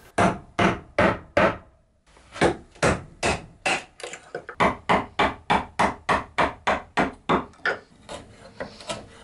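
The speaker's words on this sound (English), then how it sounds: "chopped the waste with a mortise chisel following the 5-degree" A mortise chisel is struck repeatedly to chop waste wood from a joint in a small workshop, giving about two dozen evenly paced, sharp thuds after a brief pause, close and clear with no talk.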